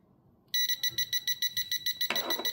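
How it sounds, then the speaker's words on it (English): A TopTes PT210S combustible gas leak detector sets off its alarm, a loud, sharp electronic beeping in a rapid, steady pulse that starts abruptly and repeats about a dozen times, alone in a quiet room. "the moment that the gas is detected, it will go off again"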